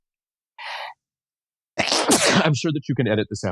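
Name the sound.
sneeze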